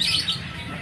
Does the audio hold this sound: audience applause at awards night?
no